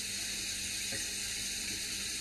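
Running water rinsing a Polaroid negative under a tap, a steady close hiss of flowing water that holds evenly for two seconds.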